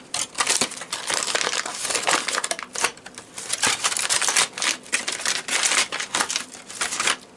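Foil packaging around gas mask cheek filters for a Polish MP4B mask is crinkled and torn open, loud, close, irregular crackling bursts and pauses with no talking.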